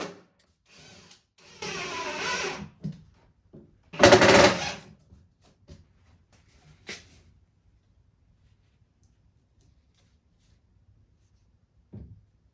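Power tool bursts of drilling holes and driving wood screws into the back of a small wooden stand: two loud whirring runs of a couple of seconds each, followed by sparse faint clicks and knocks, then near silence.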